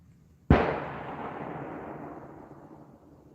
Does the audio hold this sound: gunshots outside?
yes